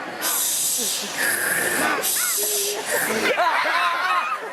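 Crowd of theatre audience members at a comedy show imitating seagull cries with voices, a dense overlapping mass of squawks and hissy calls, some rising and falling whoops, loud and continuous with bursts of laughter.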